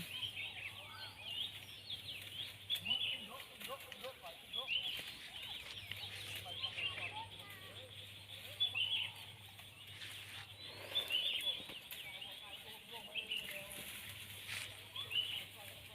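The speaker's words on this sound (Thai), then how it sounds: "บรรยากาศยามเย็นนะคะ เสียงนกร้อง" Birds calling outdoors at evening, faint chirps and clucking fowl-like calls scattered over a steady low hum, distant and soft, with someone talking quietly at times.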